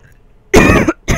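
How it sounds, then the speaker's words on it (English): A person gives a sharp, loud cough, a harsh throaty burst followed by a brief second short cough, close to the microphone after a moment of near silence. "Just coughing a little bit."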